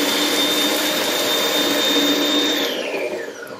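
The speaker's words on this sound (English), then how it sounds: "just give it a whiz to break down the walnuts" A blender whizzes walnuts to break them down for a sauce, a loud, steady whirring roar held for a few seconds that eases off slightly toward the end.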